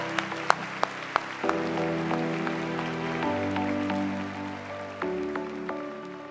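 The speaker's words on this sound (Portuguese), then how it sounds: "eu acho que a Paula merece uma salva de palmas" Audience applause at a women's networking conference event in Lisbon, a moderate clapping patter with a few sharper claps, running under sustained musical tones.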